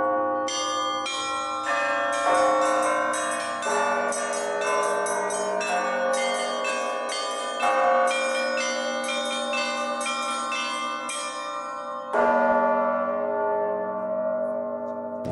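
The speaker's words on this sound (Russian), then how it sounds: "Далее у нас идут это основные колокола, средние, да, которые еще их называли красными, то есть красивыми" Orthodox church bells ring in a bell tower, the middle bells joining a dense, continuous ringing pattern with rhythmic strikes over a sustained resonant hum, loud and close, with a fresh heavy stroke near the end.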